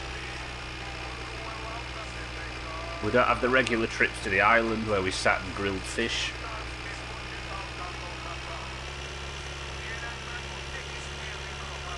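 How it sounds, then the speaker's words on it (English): Steady tractor engine idling in the video game My Winter Car, a constant low drone heard throughout under a voice talking. "now that's been replaced by loads of engine noise"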